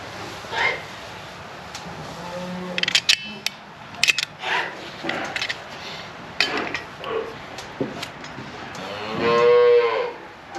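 Beef cattle mooing on a farm during a vaccination and implant session: a few scattered low moos early on, then one loud, drawn-out moo near the end, with clattering and knocking around the animals.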